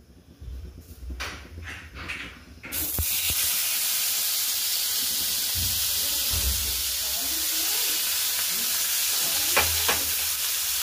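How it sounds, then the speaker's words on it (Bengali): Silver pomfret fish sizzles in oil in a frying pan over a low gas flame, a loud, continuous hiss and crackle that starts after a few seconds of clattering and handling, with faint talk early on. "মাছটাকে ফ্রাই করার জন্য দিয়ে দিয়েছি, গ্যাসের জোরটাকে কমিয়ে।"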